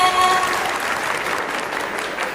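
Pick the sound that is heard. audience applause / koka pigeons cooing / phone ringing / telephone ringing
audience applause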